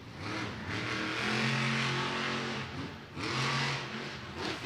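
A monster truck engine at Monster Jam in Camping World Stadium, Orlando, roars and revs in two loud sustained swells with a brief dip between, crowd noise blending underneath and no clear talk.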